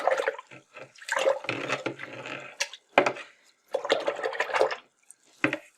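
Acrylic paintbrush swished and rinsed in a water cup, several bursts of splashy sloshing and clinking separated by brief pauses, close and clear.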